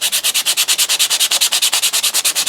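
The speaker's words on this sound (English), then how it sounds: "give them a very light sanding with some fine sandpaper" Fine 220 to 320 grit sandpaper is rubbed lightly over the handle scales of an ESEE 6 knife in quick, even back-and-forth strokes, about twenty crisp rasping passes in a steady rhythm, close and loud.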